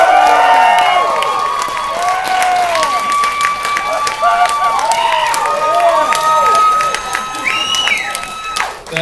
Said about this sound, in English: That is the longest sustained applause for a drinking game we've ever had